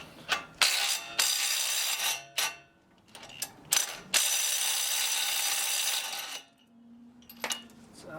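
A ratchet backs out a bolt on an Acura RSX Type S during a front and rear camber kit install, with quick bursts of clicking and a long steady ratcheting run, close up, between short pauses and small metal clinks.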